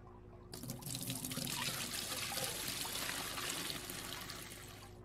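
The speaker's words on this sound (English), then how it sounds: "let's get some water in here" Water pours steadily into a fish tank in the Aquarist video game, a continuous splashing trickle that builds after a brief quiet start and holds close and fairly loud, with no talk over it.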